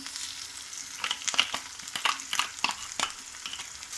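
Soaked dried red chilli paste hits a hot pan for paneer curry, sizzling and frying with a spoon stirring and scraping in short repeated strokes, close and steady, without any talking.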